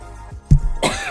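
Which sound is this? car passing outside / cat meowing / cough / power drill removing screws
cough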